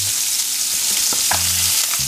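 Fish fillets, menpachi or aweoweo caught on a night fishing trip, frying hard in a hot pan, a steady close sizzle with a few brief clinks and scrapes, no talking.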